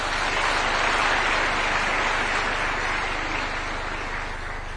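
A crowd applauding at a State House ceremony, a dense, steady wash of clapping that fades slightly toward the end. No one speaks.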